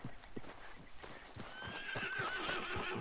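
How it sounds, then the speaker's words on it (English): A horse in the video game Red Dead Redemption whinnies while its hooves clip-clop in a steady rhythm, close and fairly quiet, the neigh rising over the hoofbeats. "Deixa meu cavalo vir."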